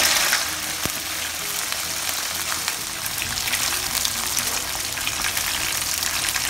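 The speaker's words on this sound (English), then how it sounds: "Now we are going to do the double fry on the ribs to crisp them up a little bit." Pork ribs double-frying in very hot oil, a loud steady close-up sizzle and crackle of bubbling fat that holds for several seconds without talk.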